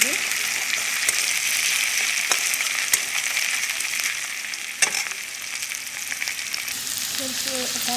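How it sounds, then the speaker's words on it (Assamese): Local chicken meat frying in hot oil, a loud continuous sizzle with a few sharp scraping clicks from stirring, close and steady, no voices. "এতিয়া অকণমান ৰঙচুৱা হ'লে মাংসখিনি দি দিম।"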